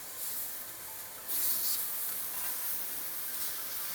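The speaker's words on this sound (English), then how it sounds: "Once you got your skillet nice and hot and smoky, time to put on the ham. Look at that sizzle." Thick ham slices sizzling in a hot, smoky skillet for an eggs Benedict breakfast sandwich, a close steady hiss that jumps louder as the meat hits the pan and then stays even.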